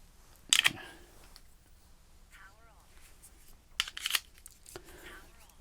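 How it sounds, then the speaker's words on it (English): Headphones snap magnetically onto their USB-C charging base, giving two sharp, close clicks a few seconds apart, with a voice talking quietly between them. "They magnetically latch onto the side of this thing"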